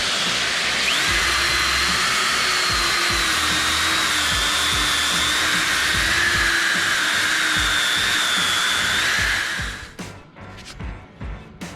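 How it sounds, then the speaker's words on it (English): A power sander buffs a cutting board made from old pallet wood with 120 grit paper, a loud, steady whirring hiss that runs for about ten seconds before it shuts off and winds down. "Now I'm just gonna sand this nice and perfect. Starting off with 120 grit."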